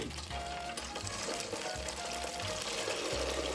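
Vegan egg foo yung batter spooned slowly into a hot pan, giving a faint, steady sizzle and soft wet pouring sounds up close.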